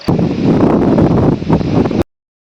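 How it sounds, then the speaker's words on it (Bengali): Stormy Kalbaishakhi wind roars in a loud, steady buffeting rush against the microphone for about two seconds, then cuts off abruptly into silence. "ঝোড়ো হাওয়া বইছে সাথে।"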